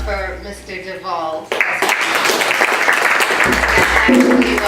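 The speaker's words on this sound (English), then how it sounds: "Another round of applause for Mr." Audience applause for a beat poet at a poetry event in Beekley Library, breaking out abruptly after a voice and sustained as dense, steady clapping through to the end.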